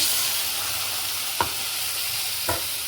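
Egg mixture frying in a pan gives a steady, close sizzle, with two short scraping strokes of stirring partway through; no one speaks.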